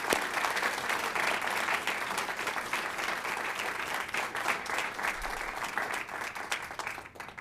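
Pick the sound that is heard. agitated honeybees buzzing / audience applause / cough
audience applause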